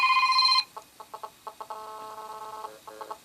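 Radiation, a Samsung Galaxy Nexus stock ringtone mimicking GSM phone interference on a speaker: stuttering electronic buzz bursts in an irregular pulsing rhythm, following the tail end of a trilling ring, moderately loud and alone.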